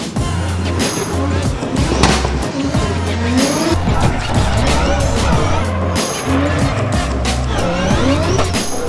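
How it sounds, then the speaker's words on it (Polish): A Toyota GT86 at a gymkhana event revs and squeals its tires repeatedly through tight maneuvers, a rhythmic pulsing engine note with sharp tire screeches, heard from nearby while someone talks over it. "Zobaczcie, zaraz będzie startować. Toyota GT86."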